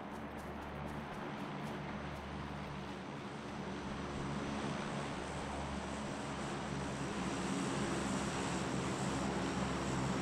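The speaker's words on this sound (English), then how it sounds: "Shut up, plane." A propeller airplane flies overhead in the battle royale game PUBG, a steady, droning engine roar that fills the whole stretch and grows slightly louder toward the end, with no talking over it.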